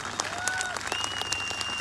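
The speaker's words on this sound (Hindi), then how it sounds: "उसके लिए दिल से ताली हो" An audience in a hall claps for the Indian Army, a short burst of continuous crowded applause with a few whistle-like tones sounding over it.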